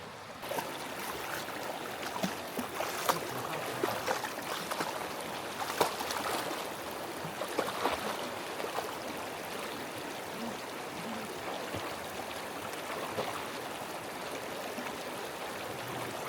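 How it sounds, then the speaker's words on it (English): Steady rushing and burbling of a small river flowing over rocks, continuous and fairly close, with no voices. "this is a perfect little river to play around in"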